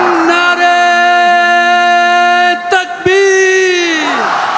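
A large crowd at the Jalsa Salana Germany 2024 gathering chants slogans in long, loud, sustained unison shouts, with a brief break before a second swelling call that tapers off.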